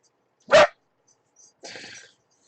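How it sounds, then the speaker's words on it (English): A single dog gives one sharp, loud bark, then after a pause lets out a softer, rougher bark-like sound in an otherwise quiet room. "What are you barking at?"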